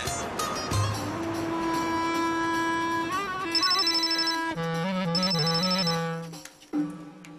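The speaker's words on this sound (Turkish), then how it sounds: "Alo buyurun, Safiye Hanım'ın telefonu." A telephone rings with a bright, melodic electronic tune that repeats in rising and falling notes for several seconds before cutting off.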